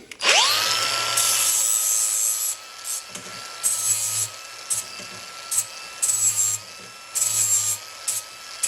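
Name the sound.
cutting an 80 millimeter length of metal for a frame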